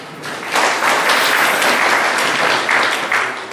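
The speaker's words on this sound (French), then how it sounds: "Je voudrais pour l'instant vraiment vous supplier d'applaudir pour le chef." Audience at a gathering of Bafou community elites in Douala, held against COVID, applauding the chief, loud dense clapping that swells and holds for several seconds.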